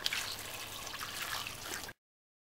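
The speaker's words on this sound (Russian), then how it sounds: "И заливаем небольшим количеством воды," Water pours steadily for about two seconds with a soft, trickling splash into a pot of vegetables for soup, close by, then stops abruptly into silence.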